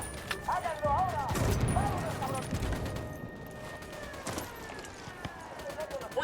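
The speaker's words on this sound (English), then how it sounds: "Opening fire on these fuckers" Sustained gunfire during a firefight in the video game Ghost Recon Wildlands, dense and continuous bursts mixed with booms and chatter, with voices talking over the shooting throughout.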